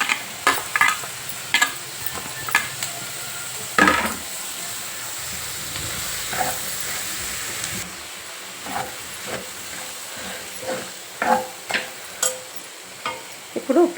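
Chopped ridge gourd pieces hiss and sizzle in a pan with already-fried soaked moong dal and curry leaves, the steady frying noise broken by repeated sharp stirring scrapes and spoon knocks throughout.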